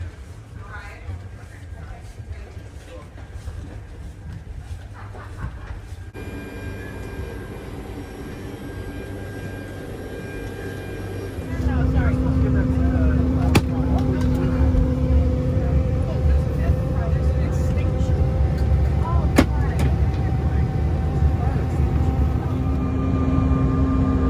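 Airliner engines idling while holding short of the runway at a small airport, a steady low hum heard from the cabin that steps up louder partway through, with a person talking over it.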